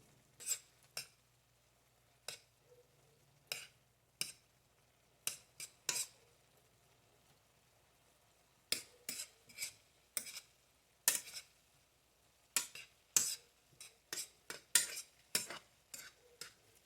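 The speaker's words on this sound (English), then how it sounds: "So you just have to stir it" Shrimp spaghetti with zucchini and kelp noodles stirred in a pan, a utensil clinking and scraping against the metal in irregular bursts, close and fairly quiet, with faint sizzling between strokes and no talking.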